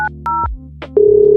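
A telephone keypad sounds a few short dialing tones, quick beeps with brief gaps between them, followed by a steady, loud tone at the end, close and clear, with no talking.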